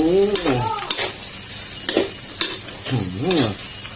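Spicy field rat curry with pepper is stirred in a pan, a spatula scraping and clacking in uneven strokes over a steady sizzle, close up, while someone talks throughout.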